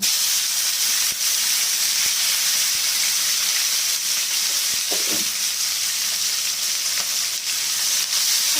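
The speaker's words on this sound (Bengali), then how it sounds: "ওই তেলেই ফুলকপিগুলো ভেজে নেব।" Loud, continuous sizzling of cauliflower frying in hot oil, with a few faint clinks of stirring along the way.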